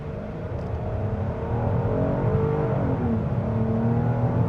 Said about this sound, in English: Looks like a good opportunity to try one out off the line, on the gas.